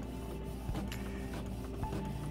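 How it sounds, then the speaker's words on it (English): An inkjet printer prints a custom design onto edible paper, a steady mechanical whir and hum with a few brief clicks and carriage shuffles, moderately quiet and close, with no talk over it. "All right, as you can see that it is printing,"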